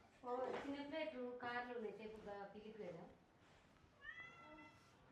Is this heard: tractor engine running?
no